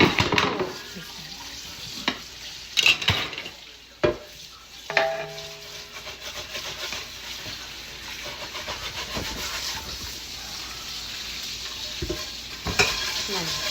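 Rice being tipped into a pot and stirred, with yellow zarda food colouring already added, giving a steady scraping, sizzling texture with a few louder clattering knocks early on and no talking.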